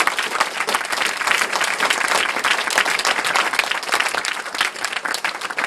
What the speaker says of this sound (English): we'll give Professor Filippenko, I hope, a mighty round of applause in just a minute